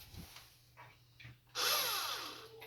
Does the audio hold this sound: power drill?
yes